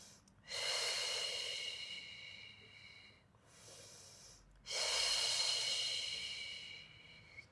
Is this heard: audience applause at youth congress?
no